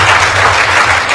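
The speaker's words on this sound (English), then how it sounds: "let's clap for them" Hacking conference audience at DEF CON 10 breaking into applause, a dense, loud, continuous wash of many hands clapping for just over a second.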